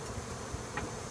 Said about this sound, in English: I shook out some bees, some queenless bees from a removal. I shook them out into this hive to give it a boost.